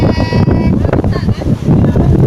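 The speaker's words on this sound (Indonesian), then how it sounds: "Ini angin juga cukup kencang, kita bisa terbang mungkin ya." Strong night wind at Momong beach buffets the microphone in loud, gusty rumbles while a person talks over it.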